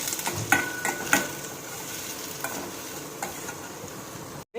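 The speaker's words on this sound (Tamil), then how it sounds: "இதை நல்லா வணக்கலாம்." Sliced shallots with ginger and garlic sauté in a pan for appakovai chutney, a steady soft sizzle broken by occasional spoon clicks and scrapes against the pan, with no talking.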